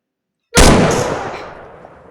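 A single sharp gunshot in the video game Crafting and Building, a loud sudden blast after a brief silence that fades out in a long echoing tail, with no voices.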